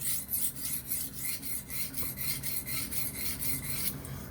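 Hand honing a knife blade bevel on a Venev industrial diamond hone with short half strokes, a steady rhythmic rasping scrape repeating about twice a second, close and fairly loud with no talking.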